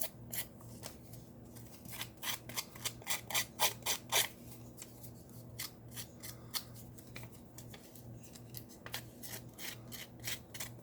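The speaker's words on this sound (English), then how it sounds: "I'm just going to take my" Repeated crisp snips of scissors cutting paper, a quick run of sharp cuts followed by slower, spaced snips, close up over a faint steady hum.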